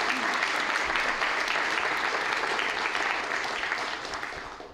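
A full room applauds at an academic welcome session, the thick, even clapping holding steady and then gradually fading toward the end.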